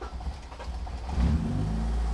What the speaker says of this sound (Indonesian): Tanpa digas saja ngidupin mesin itu dengan kondisi base map ini sudah alhamdulillah